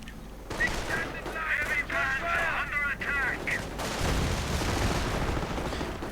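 In a video game, a Pershing tank firing on German Panthers is heard as a rumbling battle mix of booms and gunfire under a voice, which breaks off partway, after which dense explosive rumble carries on.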